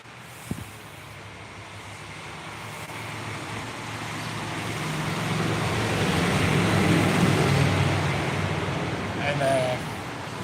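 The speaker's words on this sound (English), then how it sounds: "big trucks driving by" Steady roadway traffic with big trucks driving by near a highway sound-barrier construction site, a broad continuous rumble that swells toward the middle and stays fairly close, with a brief knock near the start.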